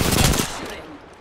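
Apex Legends weapon fire: a rapid, loud, close burst of automatic shots that cuts off and trails away into a short echo.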